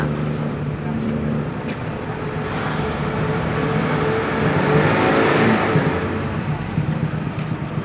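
A Toyota Fortuner diesel engine revs steadily around 3500 rpm, a loud continuous drone that swells slightly near the middle before easing, with faint voices in the background.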